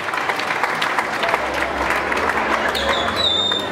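An audience at the 2017 Berlin Salsa Congress applauds continuously, a dense, steady wash of clapping from a large crowd with a few faint cheers mixed in.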